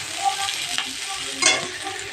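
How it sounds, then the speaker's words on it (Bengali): An egg fries in a pan over a low flame with a steady, close, soft sizzle, broken by a couple of brief spatula scrapes. "হালকা আঁচে ভাজতে থাকি।"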